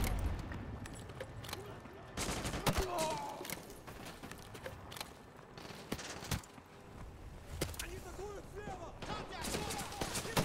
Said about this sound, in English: I just want to play around with the grenade launcher more.